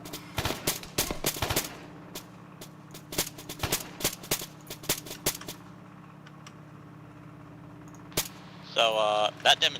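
Gunfire in the military shooter Arma 3 comes as scattered bursts and single shots, a dense cluster early then sparser cracks at moderate distance, over a low steady hum, with a voice speaking briefly near the end.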